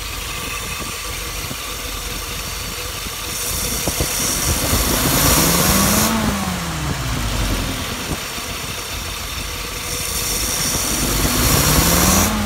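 A Yamaha YS950S snowblower engine runs steadily at close range during a stumble test, with a buzzing idle that swells as the engine revs up twice. A wavering whine rises and falls with each rev.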